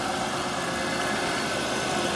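A 2010 Chevrolet Impala idles steadily with a jump box attached, giving a constant, even hum with no talk over it.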